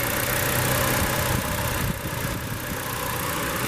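The 1.6-liter four-cylinder in a 2018 Nissan Kicks SV idles steadily, a low, even hum with a faint whir on top and no voices.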